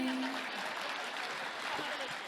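Brief, faint scattered clapping from a small crowd at the end of a bhajan, thin and distant, lasting only a couple of seconds.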